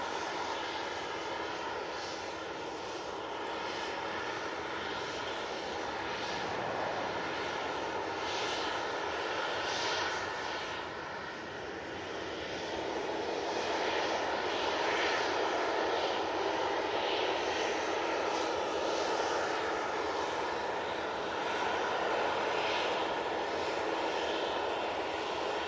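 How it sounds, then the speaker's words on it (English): An EasyJet airliner touches down at Manchester Airport, its engine roar heard at a distance as a steady, moderately faint broadband rumble that swells slightly midway and holds for the whole stretch. "EasyJet now touching down"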